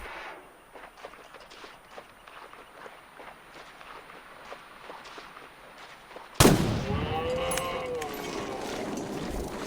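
A gunshot rings out in the survival video game The Long Dark after a stretch of quiet crunching footsteps. It lands as one loud sudden blast with a long ringing tail.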